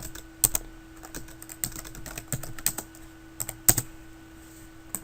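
Typing on a computer keyboard while entering a date into an Excel spreadsheet, a quiet, close run of irregular key taps with a few sharper, louder presses, and no talking.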